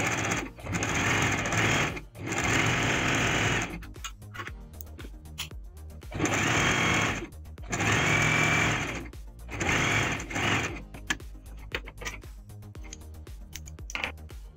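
Sewing machine stitching along the edge of a fabric scrunchie, loud close whirring runs of a couple of seconds each, separated by quieter gaps with small clicks and handling noises.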